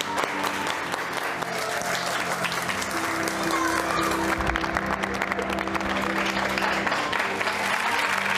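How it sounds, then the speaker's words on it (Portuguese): An audience applauds in tribute to Ayrton Senna, sustained clapping at steady moderate loudness throughout, with a faint murmur of voices underneath. "Vamos bater palmas para o Ayrton Senna?"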